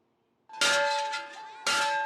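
Two bright metallic rings from a school bell in Afghanistan, each striking sharply then sustaining a clear tone, the second arriving about a second after the first, close and fairly loud.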